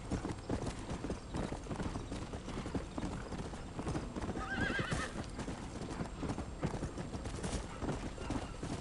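Horse hooves clip-clop steadily and close in Red Dead Redemption on PS4, a dense galloping rhythm running throughout, with a brief whinny midway over a busy game soundscape.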